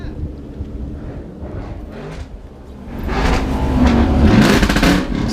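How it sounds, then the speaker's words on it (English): A Ford Cobra with a very loud Borla ATAK exhaust runs a two-step launch limiter, a low rumbling idle that swells into a harsh, crackling, stuttering roar heard up close. "some of the subs wanted to hear the two-step with the Borla attacks, which were stupid loud at the time"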